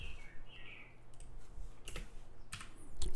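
Quick keystrokes tap on a computer keyboard as a graphics card name is typed, a few soft clicks in a quiet room.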